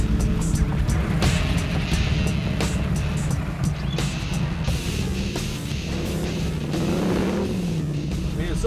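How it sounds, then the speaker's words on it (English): A 1966 Ford Bronco's engine drones steadily while the truck is driven off-road in four-wheel drive, loud and close with occasional revs and bumps, and speech runs over the engine noise. "With the rig locked into four-wheel drive, it was time to start wheeling."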